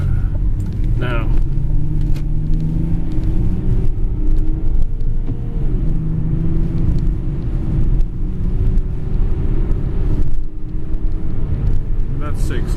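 A BMW E36 325td 3 Series diesel car accelerates hard from a standstill to 60, its engine drone climbing in pitch through the gears, loud and steady from inside the cabin.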